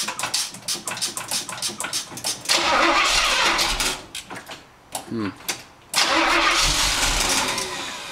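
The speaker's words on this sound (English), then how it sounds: "Man, it wants to turn over." Car engine turning over with repeated cranking, then catching and roaring to life loudly, dropping back and revving again; people talk intermittently around it.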